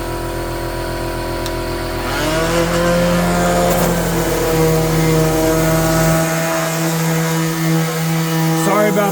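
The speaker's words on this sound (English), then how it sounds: "I'm gonna hit the whole thing one last time with the sander" An electric sander gives a loud, close droning whir as it makes a final pass over a wooden charcuterie board, with a deep motor rumble that drops away toward the end.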